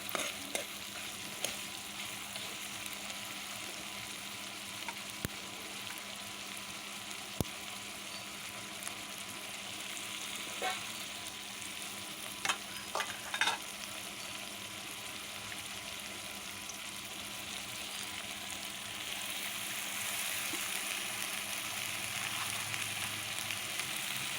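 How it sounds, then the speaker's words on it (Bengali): Chopped wild Malabar spinach (bon puishak) and potato stir-fry in a pan, a quiet, steady sizzle running throughout with scattered clicks and scrapes of the spatula, growing slightly louder toward the end. "কিছুক্ষণ নাড়াচাড়া করে কেটে রাখা পুঁই শাক ও আলুটা দিয়ে দেব, আর সুন্দরভাবে এখন কিছুক্ষণ কষাতে থাকবো"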